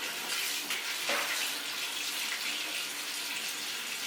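Hot water runs steadily from a bathroom tap in the master ensuite of a six-year-old townhouse, a continuous broadband hiss that stays close and even, with no voices over it.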